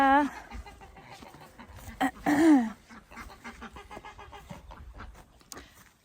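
A few honking, clucking calls from nearby geese on a homestead, loud bursts standing out over rustling movement and quiet background noise.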